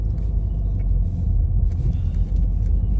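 A car drives on an icy road without stopping, producing a continuous low rumble of engine and tyres at close range, loud and steady throughout, with no speech.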